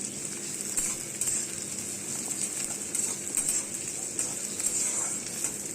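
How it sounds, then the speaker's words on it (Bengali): Chopped onion sizzles and fries in hot oil with five-spice in a pan, a steady bright crackle with faint occasional stirring, no talk over it. "তারপরে একটু পেঁয়াজ কুচি দিয়ে ভালো করে ভেজে নেবো।"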